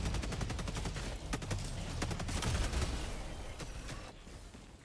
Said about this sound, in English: Man, somebody is on point with that autocannon.